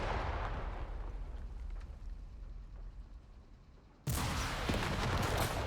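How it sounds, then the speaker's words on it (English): Panzerschreck and PIAT anti-tank launchers fire in Company of Heroes 3. A booming blast fades into rumble, then a sudden loud second blast hits and holds, with no talk. "So let's do a quick comparison, it versus the Piat. Which one's going to fire faster?"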